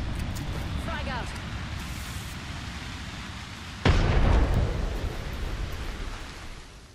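A frag grenade detonating in the video game Apex Legends, a single loud deep blast midway that rumbles and slowly decays, preceded by quieter ambient game noise.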